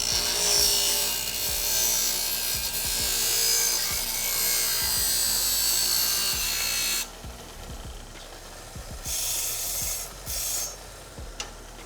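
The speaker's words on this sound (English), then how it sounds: "Cut on the line." A saw cuts through a golf wedge shaft with repeated rasping strokes in a steady rhythm, close and fairly loud, then slows into shorter, broken scraping bursts.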